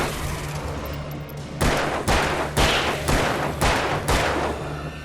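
Gunshots in the video game Alan Wake: five heavy, evenly spaced shots about half a second apart ring out loud and close over a steady low ambient hum.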